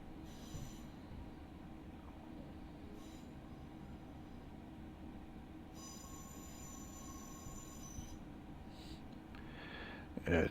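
Wheel flange squeal from a Class 379 electric train in Train Simulator Classic, approaching London Liverpool Street: thin, high, sustained squeals that come and go over a steady low rolling rumble, with a louder clunk at the very end.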